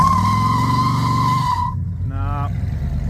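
A 1968 Dodge Charger with modified suspension spins its tires, a loud sustained screech over a throaty engine roar that drops away midway, then a short squealing chirp returns over the rumbling idle.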